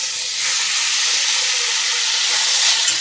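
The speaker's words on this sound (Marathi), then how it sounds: "आता त्याच्यामध्ये टाकून घ्यायचं आहे टोमॅटो" Tomatoes hit a hot pan of spices for a tomato bhaji, giving a steady, loud sizzle and hiss that swells after a brief quieter start and holds to the end.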